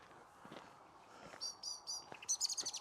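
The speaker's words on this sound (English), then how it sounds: "Mr. Blackbird, hello." A blackbird sings on an outdoor walk, a run of clear fluty chirps and warbles that grows louder toward the end over a faint steady background hiss.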